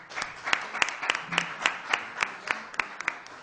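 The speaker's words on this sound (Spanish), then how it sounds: "les pido un fuerte aplauso para nuestra amiga, compañera, diputada" Sparse, rhythmic clapping at a public forum in a legislative assembly hall, about a dozen crisp claps at an even pace, close by with little else around it.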